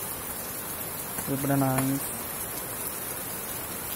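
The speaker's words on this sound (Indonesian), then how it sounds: "ada hujan-hujanan di depan rumah" Steady rain falling in front of a house, a continuous even hiss throughout, with a short spoken phrase briefly rising over it.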